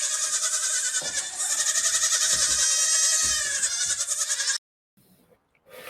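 Loud, sustained goat bleating with a wavering, pulsing tone that runs for several seconds, then cuts off abruptly into near silence with a few faint trailing noises.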